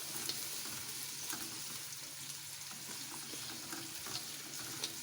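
Onions and dry fruits frying in a pan for nut rice, a steady soft sizzle with light stirring throughout, close and continuous with no talk.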